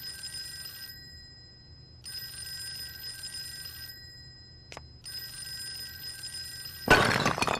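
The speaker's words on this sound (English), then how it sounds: "let's answer the phone." A telephone rings in the horror video game Fork Road, steady repeating bursts of ringing separated by short pauses, fairly loud and alone, ending in a harsher louder burst.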